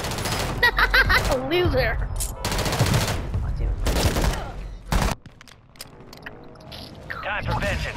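Gunfire in the video game Call of Duty rattles in rapid automatic bursts alongside in-game sound effects, while a player talks loudly over it.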